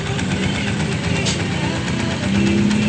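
A Honda TMX Alpha motorcycle with an oil leak idles while warming up, a steady mid-pitched engine putter with a rising whine near the end.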